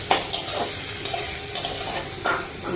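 Pointed gourd curry with chopped tomato and spice paste frying in oil, a loud continuous sizzle broken by regular scrapes and knocks of a spoon stirring in the pan, with no voices.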